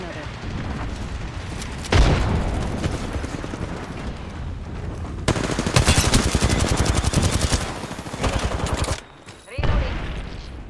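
Video game gunfire crackles in dense, continuous bursts through much of the clip, with louder rapid volleys in the middle, a brief drop near the end, then more shots.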